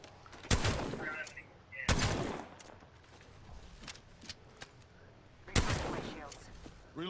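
Video game gunfire from an online shooter, with three loud sharp bursts spaced a few seconds apart and fainter scattered shots between them.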